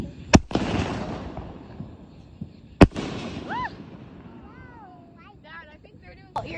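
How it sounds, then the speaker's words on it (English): Fourth of July fireworks launch and burst, with two sharp, loud bangs a few seconds apart followed by crackling and fizzing, as people talk and whoop excitedly in the background. "Alright, we're launching a big firework. We're lighting a big one."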